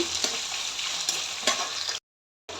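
Washed potatoes stirred in a frying pan, a steady close sizzle with scraping stir strokes, briefly cutting to silence before resuming.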